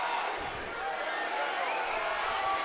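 Fight crowd at a Perry Stargel vs Mikey England bout cheering for Mikey England, a steady wash of distant roaring and cheering beneath a commentator's voice.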